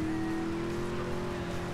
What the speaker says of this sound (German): hier zweiradmäßig sind wir hier geslidet